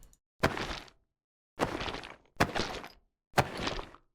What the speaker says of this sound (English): the sound of mice picking up various objects in the world, such as ammo and health kits